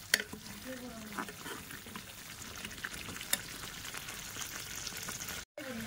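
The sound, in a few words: aloo paratha frying in ghee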